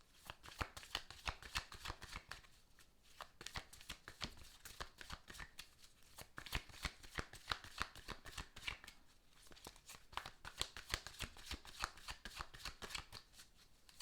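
A deck of goddess guidance cards is shuffled steadily for a long stretch, with quick, rhythmic riffles and soft papery slaps at a low, intimate volume.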